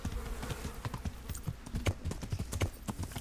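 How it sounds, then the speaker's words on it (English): Horse hooves clip-clop steadily in the Kingdom Come: Deliverance video game, a rapid, even stream of soft thuds at moderate volume with faint ambient background noise. "my poor horse. Just driving it into this fence."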